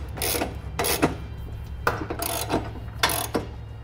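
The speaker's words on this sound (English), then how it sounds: "then we'll go ahead and tighten down the hardware. For our bolts going towards the front of the vehicle, I'll be using a 3/4 inch socket." Socket wrench ratcheting while tightening trailer hitch bolts under a 2013 Subaru XV Crosstrek, using a 3/4 inch socket; several short bursts of rapid clicking in quick succession, fairly close and clear with no talk.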